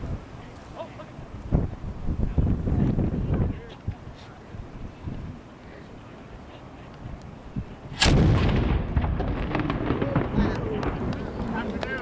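A cannon fires in Halifax, Nova Scotia, one sharp, booming blast followed by a rolling echo and wind noise, with people's voices heard before the shot.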